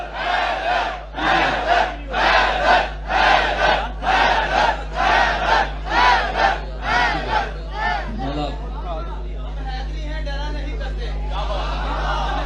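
Large crowd at a religious celebration for the birth anniversary of Bibi Fatima, chanting in loud rhythmic bursts roughly every second for about eight seconds, then settling into a sustained crowd roar and murmur.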